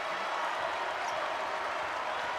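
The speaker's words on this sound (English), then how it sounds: "And that gets the crowd fired up. It is getting loud here in Crisler Center." A basketball arena crowd at a women's college game in Crisler Center roars in a dense, steady wash of cheering and applause, loud and continuous with no break.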